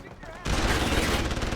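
Shotgun fire in Deus Ex: Human Revolution: after a quiet start, a loud, sustained burst of heavy gunfire with booming blasts fills the rest, with some talk mixed in.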